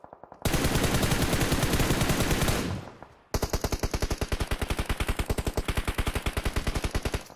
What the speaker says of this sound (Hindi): सो मैं यहाँ पे फायर करता हूँ टीम के ऊपर